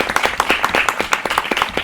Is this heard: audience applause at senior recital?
yes